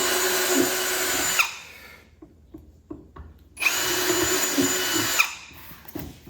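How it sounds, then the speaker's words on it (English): A power drill boring pilot holes into a wooden beehive, two sustained whining bursts with a short quiet pause between them, close and loud. "I'm gonna drill a couple pilot holes here."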